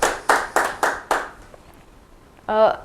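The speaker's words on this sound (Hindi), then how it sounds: "इस बात पे जोरदार तालियां बजनी चाहिए।" A few hands clap five times in a slow, even rhythm, loud and close, fading out after a second and a half; a brief voice sounds near the end.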